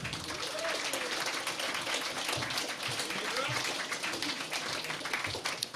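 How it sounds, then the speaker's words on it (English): Crowd applause at a mayoral candidate debate in a venue, with a scatter of individual claps and faint voices and cheers mixed into the steady clapping. "I'd like to kick things off with a big round of applause"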